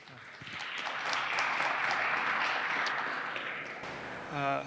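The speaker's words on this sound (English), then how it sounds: "A round of applause for Sam Snider-Held." An audience claps for an incoming speaker at a talk on machine learning and creativity, a dense sustained patter swelling quickly and holding steady before tapering, with a brief voice near the end.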